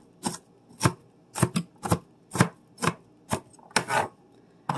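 Knife chopping onion on a cutting board for a sheet-pan sausage and vegetable dinner, about a dozen crisp, evenly spaced chops, close and loud, with no talk.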